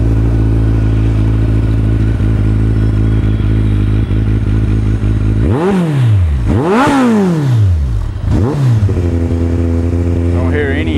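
A Kawasaki Ninja ZX1400C sport motorcycle with 16,265 miles on it idles loud and close, then blips its throttle in three sharp revs that rise and fall before it settles back to a steady idle.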